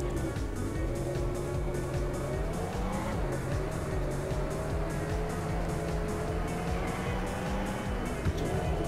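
Car engine in a driving video game hums and revs at a steady level throughout, with faint tire noise, the game's synthetic motor sound close and continuous.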